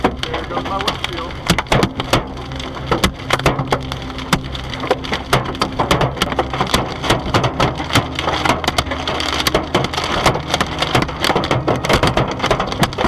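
Large hail pounding a car while driving, dense irregular cracking impacts rattling on the body and glass, loud and close over a low road rumble, with sharp louder strikes scattered throughout.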